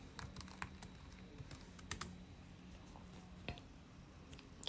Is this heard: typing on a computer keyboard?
yes